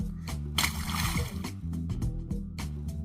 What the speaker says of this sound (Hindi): वे एक एक करके कंकर को मटके में डालने लगा।